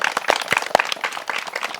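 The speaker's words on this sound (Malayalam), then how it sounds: "നല്ലൊരു കയ്യടിയാവാം അല്ലേ?" A children's audience at an Onam gathering claps together, a brief patter of scattered hand claps, fairly close and moderately loud.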